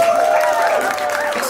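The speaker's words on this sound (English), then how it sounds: "Round of applause for Charlie Urick." An audience claps and cheers for Charlie Urick, producing a dense, loud burst of applause that carries straight through without a break.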